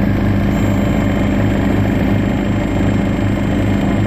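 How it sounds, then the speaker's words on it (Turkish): A firefighting helicopter works over a forest fire on steep terrain, its heavy engine and rotor giving a loud, continuous low roar and drone that holds steady throughout with no voices. "yangına 3 helikopter ve 1 amfibik uçakla havadan müdahaleye başlandı"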